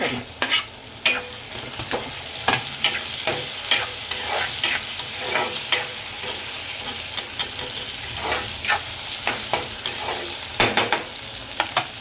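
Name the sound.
tomatoes added to vegetables frying and stirred in pan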